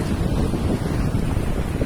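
Steady wind blows by the sea, a constant roaring rush buffeting the microphone with a low rumble of surf beneath, loud and unbroken with no voices.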